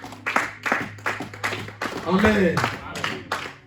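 A church congregation claps in a steady rhythm of sharp bursts roughly every half second, while a voice speaks over the clapping partway through.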